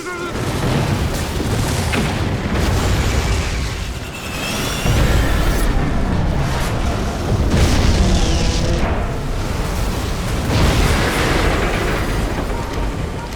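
Explosions tear through a facility in the Red Alert 3 Uprising game, a loud, continuous barrage of booming blasts and deep rumbling with heavier bursts throughout and no clear speech.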